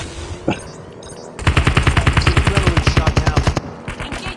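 Automatic gunfire in the mobile shooter game COD Mobile, a loud rapid burst of about twenty evenly spaced shots after a single earlier shot, over steady game background noise.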